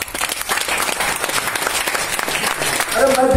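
Audience applause at a Modicare event, a dense continuous patter of many hands clapping from start to finish, staying at a steady, fairly loud level with a brief tonal sound near the end.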